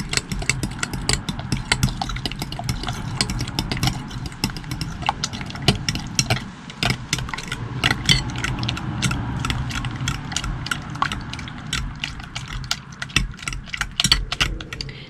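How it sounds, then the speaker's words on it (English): Milk being mixed into banana and oat muffin batter, a steady run of close clicking, scraping stirs against the bowl, busy and continuous with no talking. "now you're going to want to mix this up"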